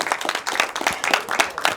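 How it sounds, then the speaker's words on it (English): Audience applause in a live performance setting as volunteers come down to help, a dense crowd of clapping hands with steady broadband patter throughout, fairly close and lively, without talk over it. "Give them a round of applause as they come down."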